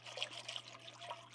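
Liquid being poured into a pan for mac and cheese, a faint continuous trickling stream with gentle splashing, quiet and steady under a low background hum.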